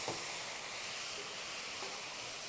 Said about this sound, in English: you hear it sizzle and steam